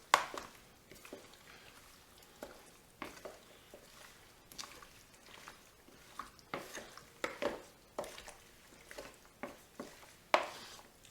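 Chicken wings are tossed by hand with lemon juice, fresh parsley, rosemary, salt and black pepper, giving quiet, irregular wet slaps and soft clatters against the bowl.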